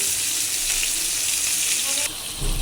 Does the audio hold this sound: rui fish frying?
yes